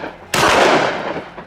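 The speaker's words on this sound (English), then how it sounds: "The first shots rang out." A single loud gunshot cracks out during a wild boar hunt across wooded hills, a sharp blast followed by a rolling, reverberant tail that fades over about a second.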